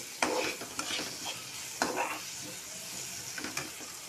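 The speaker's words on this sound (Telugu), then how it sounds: "కుక్ అయిన తర్వాత మనం కట్ చేసుకున్న బ్రెడ్ స్లైసెస్ ఉంటాయి కదా, సో అవి మనం ఇందులో మిక్స్ చేసుకోవాలి" Bread slices being stirred into spiced masala in a frying pan, with irregular scraping spoon strokes over a steady sizzle.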